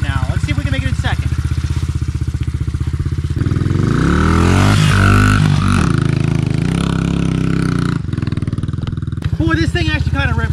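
A Honda XR50 fitted with an 88cc big bore kit revs up and accelerates through the gears, its engine note rising loud and close with a brief drop at a shift.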